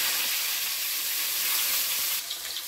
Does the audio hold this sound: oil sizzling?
yes